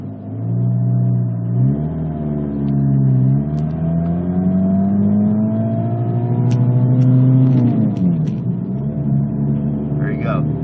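Vehicle engine climbing in pitch under hard acceleration on takeoff while still in second gear, loud and close with rising harmonic whine, easing briefly around shifts; someone talks over it.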